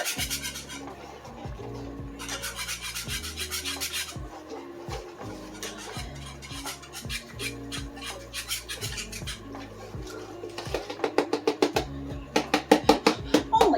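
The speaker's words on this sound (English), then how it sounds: "I'm gonna use a metal whisk because a spoon's not gonna cut it with this powdered sugar" A metal whisk scrapes and clinks against a cheap pan while mixing powdered sugar, with continuous rhythmic scratching that turns to faster, sharper taps toward the end. Faint background music plays underneath.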